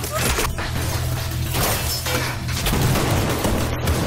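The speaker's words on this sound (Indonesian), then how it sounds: "Tembakan dilepaskan. Suasana menjadi kacau. Baku tembak pun dimulai." Gunfire in an action film shootout, a chaotic string of sharp bursts and crashing impacts over tense background music, fairly loud and continuous, with no speech.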